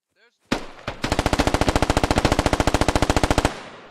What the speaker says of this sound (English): Let's get suppressive fire down to our northwest too.